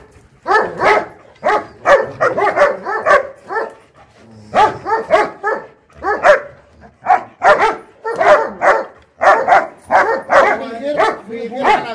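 A dog barks loudly and repeatedly up close, sharp rapid bursts in clusters with brief pauses, continuing throughout; someone speaks briefly amid the barking.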